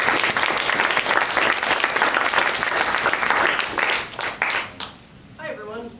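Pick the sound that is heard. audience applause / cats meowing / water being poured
audience applause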